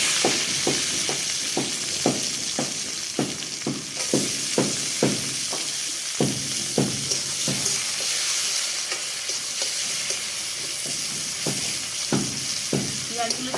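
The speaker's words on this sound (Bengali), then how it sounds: "পেঁয়াজগুলো দিয়ে ভালো করে লাল লাল করে ভেজে নিতে হবে।" Onions frying in hot oil with bay leaves and dried red chillies, a steady close sizzle broken by regular scraping strokes of a spatula stirring the pan, repeated throughout with no talking.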